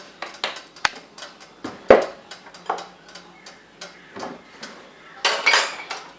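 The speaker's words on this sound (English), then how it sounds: "here I've got my wok, and I'm going to put a tablespoon olive oil" A wok is handled on the stove while a tablespoon of olive oil goes in, giving a scatter of close metallic clinks and knocks at an uneven rhythm, with a brief louder clatter near the end and no talking.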